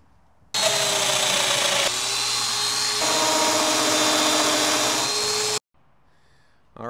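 A Festool Domino joiner cuts a mortise into wood, its motor starting abruptly and running as a loud, steady high whine for about five seconds with slight shifts in pitch before cutting off.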